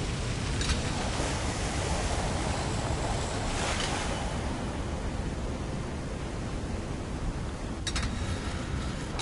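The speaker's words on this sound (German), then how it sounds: "Immer schön durch den Wasserfall, das ist auch sehr schön." Rushing water from a waterfall in the video game Assassin's Creed Revelations, a loud, constant broadband roar that holds steady throughout.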